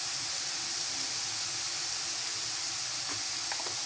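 Rice with carrots fries in ghee in a pan, giving off a steady, soft hiss and sizzle throughout, with a few faint clinks near the end.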